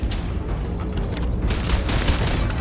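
Turret gunfire in the game Starfield comes as a dense, loud burst of rapid booming shots and rattling bangs, continuous and close, with no voices over it.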